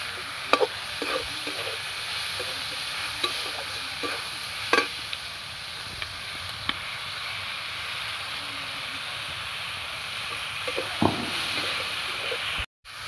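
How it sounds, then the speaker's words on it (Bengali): Onions, three medium-sized ones with about a spoonful of garlic paste, frying in a pan give a steady soft sizzle throughout, with occasional light scrapes and clicks of stirring, close and alone without talk. "পেঁয়াজ ভাজার মধ্যে একটু লবণ দিয়ে দেবো"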